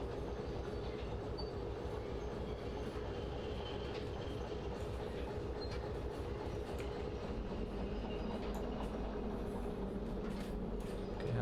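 A train rolls steadily along rails in the game Derail Valley, hauling timber, with a constant low rumble and faint clickety-clack throughout, close and even, no talking.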